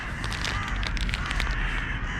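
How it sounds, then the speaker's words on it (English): Crows cawing harshly during a fight, loud and close, overlapping repeated caws in quick bursts with no talking. "Crow fight. It's a crow fight."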